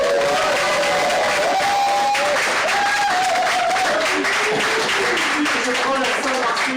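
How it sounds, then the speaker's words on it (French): A live audience applauds and cheers as a comedian named Cyril Mosca is welcomed on stage, the clapping steady and dense for several seconds with a few raised voices and tonal calls mixed into the crowd noise. "Merci d'applaudir Monsieur Cyril Mosca."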